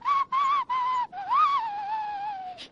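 Whistling as a sound effect in a French comic radio drama: three short clipped whistle notes, then a longer wavering, sliding tone that holds steady and fades, close and clear with no talk.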